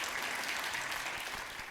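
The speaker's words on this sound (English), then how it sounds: "can we please give a round of applause to all our semi-finalists?" A studio audience at a semi-finalist announcement claps steadily, a dense, even wash of applause that holds its level throughout.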